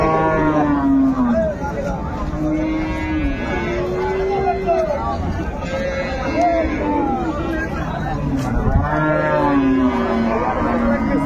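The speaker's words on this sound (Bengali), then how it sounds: "কেমন দামে অন্য দুধের গাভী এবং বাছুর গরুগুলো বেচা কেনা হচ্ছে" Dairy cows and calves at the Raniganj cattle market in Dinajpur low and moo repeatedly, long drawn calls rising over a busy background of crowd chatter and voices.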